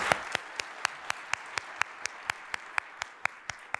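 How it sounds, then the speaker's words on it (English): At a panel discussion on data centers, the audience applauds with faint, sparse claps in a steady, evenly spaced rhythm, around four per second, with no other sound over them. "Let's give them all a round of applause."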